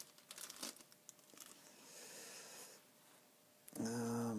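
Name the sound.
plastic bags being unpacked from a package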